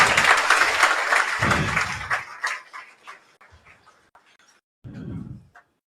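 An audience at a seminar bursts into applause, with dense clapping that tapers into scattered claps before a short second burst near the end.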